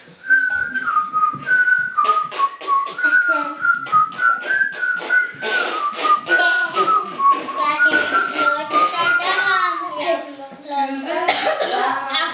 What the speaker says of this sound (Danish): Og hør nu her, hvordan vi alle fløjte vil.